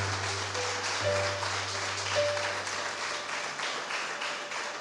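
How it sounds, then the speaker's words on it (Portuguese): A church congregation applauds in a steady, continuous wash of clapping that fills the whole stretch evenly, moderately loud and without pauses, with a low hum underneath. "Pode aplaudir o Senhor aqui nessa noite."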